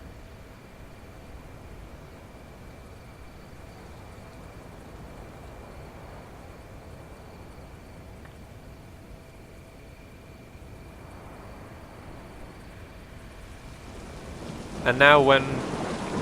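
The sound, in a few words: rain and thunder in video game Mind: Path to Thalamus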